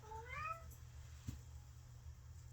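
A house cat gives one short, clear meow at the start, rising then falling, followed by near silence over a low steady hum indoors.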